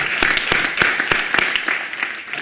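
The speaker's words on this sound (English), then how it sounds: "give them another round of applause" A lecture audience applauds, dense rapid clapping from a large room that stays loud and steady for a couple of seconds before starting to taper.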